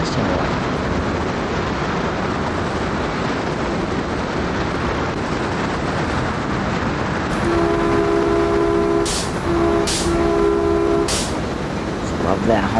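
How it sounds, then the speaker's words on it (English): Locomotive horn of a CalTrain Baby Bullet in the Train Sim World 2 game, sounding in several sustained blasts with short breaks over the steady rumble of the train, loud and close. "Just love that horn."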